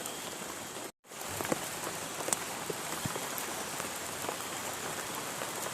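Steady rain falls on a surface outdoors while hunting for wild termite mushrooms, a continuous close hiss with scattered drop taps, briefly cut out near the start.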